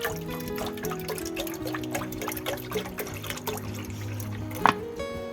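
Water pours steadily into a kadai, splashing and trickling, with background music playing throughout.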